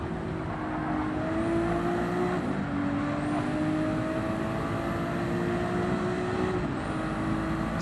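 GT race cars in a sim racing game at Monza hold a steady, droning engine whine with gear shifts and pitch rises as they run close together, constant and moderately loud without voices.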